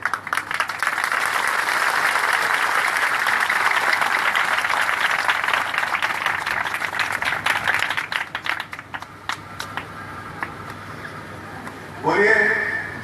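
A church congregation at a Christian gathering in Bargarh, Odisha, claps in a dense, sustained burst that thins out and fades, followed by a voice speaking near the end.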